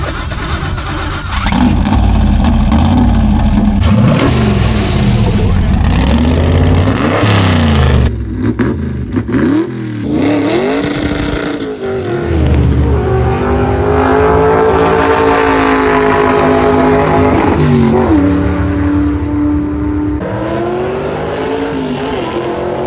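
A NASCAR-inspired Chevrolet C10 truck engine revs loud and close at the racetrack, rising and falling in long sweeping roars, with a brief drop between bursts before climbing again.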